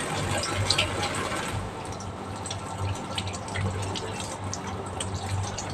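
Very hot water running from a kitchen tap, a steady splashing stream with small drips and gurgles, close and moderately loud, no talking.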